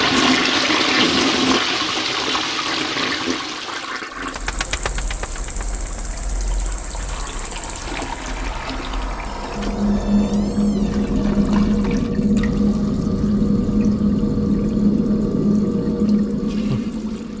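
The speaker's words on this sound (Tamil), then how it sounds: "ஃப்ளஷ்ல ஏதோ ப்ராப்ளம் நினைக்கிறேன்." A household toilet with a faulty flush runs loudly, a strong rush of water that shifts midway into a steadier gurgling drain and refill, close and alone without voices.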